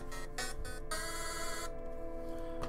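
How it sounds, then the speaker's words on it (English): A phone gives off a few short electronic beeps in quick succession, faint and set against a steady tonal game soundtrack. "my phone go beep boop"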